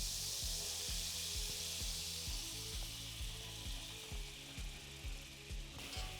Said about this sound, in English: Next, we got our 3 tablespoons of butter. Drop that in there.